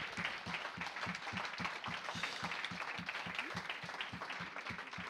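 Applause from a lecture audience thanking speakers at a talk on medieval plant medicine, fairly quiet and distant, with one nearby pair of hands clapping in a steady regular rhythm above the softer crowd.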